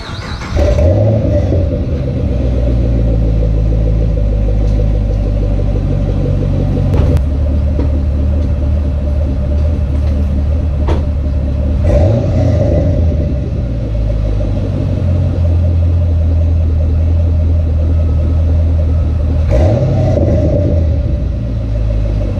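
A 2010 Camaro SS fitted with Speed Engineering headers fires up warm and settles into a loud, deep, lumpy idle close by, with a few throttle blips swelling over the steady rumble.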